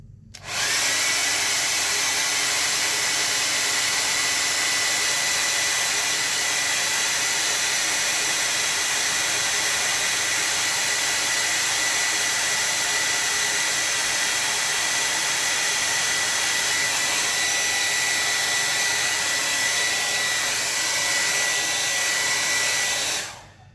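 A hair dryer blows steadily and loudly on a watercolor landscape painting, running as one continuous whirring roar from start to finish with no voices.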